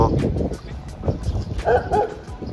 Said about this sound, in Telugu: ఆ కుక్క కూడా వచ్చింది నీ మీదకి చూడు